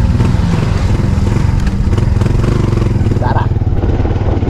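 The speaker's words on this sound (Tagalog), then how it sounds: "Yung lamig na naman yung aking motor. Bumalik na sa normal yung andar niya." A motorcycle engine runs steadily at close range after cooling down and settling back to a normal idle, with a dense low rumble and some clatter throughout.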